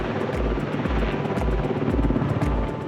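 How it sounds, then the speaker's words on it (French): A helicopter airlifts heavy packages onto a rooftop terrace in Paris, its rotor beating in a loud, steady low thump close overhead under a continuous engine roar. "L'hélicoptère a fait 3 allers-retours, un pour chaque colis."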